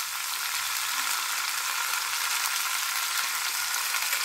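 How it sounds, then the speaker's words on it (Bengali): Vegetable rice mix with salt frying in a pan, giving a steady, even hiss of sizzling that holds at one level throughout, close and without any talk. "মিক্সটা আবার ভাজবো।"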